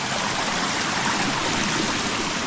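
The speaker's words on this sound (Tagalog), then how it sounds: "Pagkaganda ng ilog ng Tagkawayan, Quezon." A clean river in a virgin forest in Tagkawayan, Quezon rushes steadily, its broadband flowing hiss close and even throughout with no pauses and no voices.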